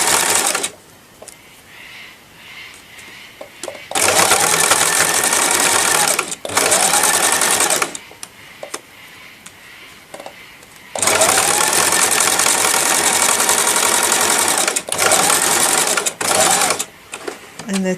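A sewing machine stitches a snippet border onto dyed mixed-media fabric in two long loud bursts of rapid needle clatter, with quiet pauses between them and brief motor whirs.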